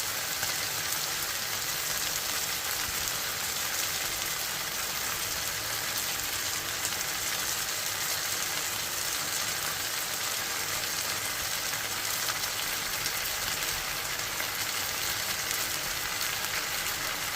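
Chorizo frying in a pan for a ragu, giving a continuous even sizzle that resembles rain on a surface, steady and moderately loud throughout.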